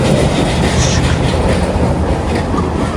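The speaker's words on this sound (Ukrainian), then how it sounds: "Трамвайчик." A tram rolls past on a city street in Vinnytsia, Ukraine, a steady, loud, close rumble of wheels on rail with faint clatter throughout, no talking.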